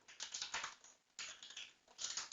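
Rapid clicking keystrokes on a computer keyboard come in two bursts of fast typing separated by a brief pause, close and fairly quiet with no talk.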